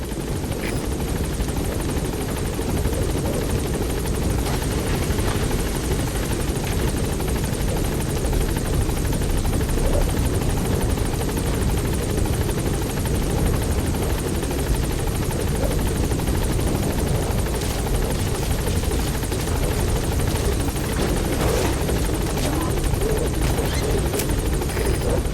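A helicopter touches down in the video game Metal Gear Solid V, its rotor and engine a dense, steady roar that stays loud and constant throughout.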